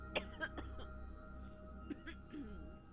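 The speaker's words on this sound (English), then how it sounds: "What's with all the coughing?" A few short, raspy coughs from a character in a video game, in quick succession, fairly quiet, over a steady electronic hum, with softer throaty sounds afterward.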